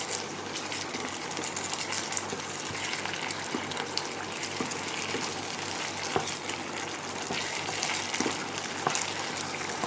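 Cornflour and water mixture poured into a chilli chicken pan, a steady broad hiss and gush of liquid with faint sizzling that runs unbroken for about ten seconds.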